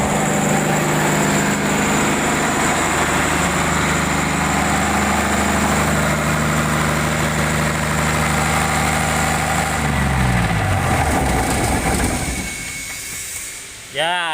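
A generator engine runs after starting, its steady loud idle droning on with a constant low hum, then winding down and fading toward the end as the engine is shut off.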